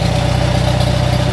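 A Farmall Super M tractor engine idling steadily, a close, loud, even low-pitched chugging with a rapid regular pulse and no voices.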